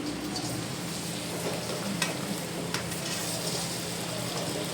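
Dates and raisins stirred in two spoons of ghee in a pan for dry-fruit laddoos, a steady soft sizzle with scraping stir strokes throughout, close and even in level.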